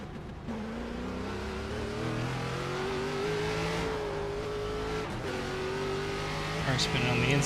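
A race car in the iRacing sim spins out on track, its engine droning and shifting pitch continuously with a faint tire scrub near the end.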